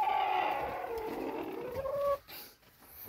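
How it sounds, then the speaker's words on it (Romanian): New Hampshire chickens, a rooster and hens, cluck and call close by in a farmyard, a short busy burst that drops away near the end. "Cocoșul de New Hampshire,"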